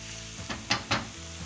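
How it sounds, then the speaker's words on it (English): Onions and garlic sizzle softly in a pan on a Greek island kitchen stove, with three brief bursts of scraping and hissing as a spoon stirs them, then settling back to a low steady crackle. "gonna get started next on my onions and garlic. Just give that a stir."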